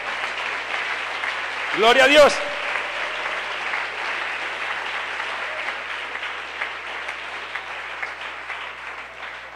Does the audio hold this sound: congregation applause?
yes